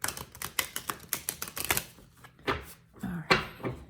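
A deck of tarot cards is shuffled vigorously up close: a rapid run of crisp papery slaps and riffles, then a few slower, separate flicks.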